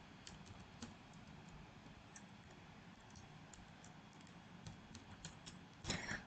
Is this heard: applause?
no